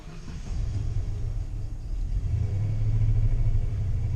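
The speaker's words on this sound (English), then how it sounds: "I'm not touching the throttle at all. The truck is doing this by itself." A truck engine rumbles low and steady on its own with no throttle input, its deep drone swelling gradually louder over a few seconds, close and continuous.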